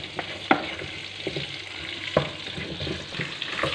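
Beef frying in a pan for korma: a steady sizzle with a few sharp spoon clinks and stirring scrapes, close by and without speech.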